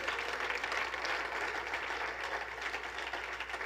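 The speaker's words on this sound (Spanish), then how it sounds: "Dele un aplauso al Señor con todo su corazón." A congregation at a church service claps together during a sermon, a steady wash of many hands applauding at even volume for a few seconds, with no voices over it.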